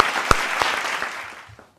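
Brief audience applause as a poet is welcomed onto a stage, a burst of close clapping that fades out within two seconds.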